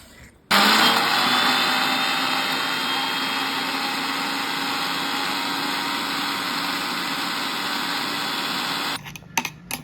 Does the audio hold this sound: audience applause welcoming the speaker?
no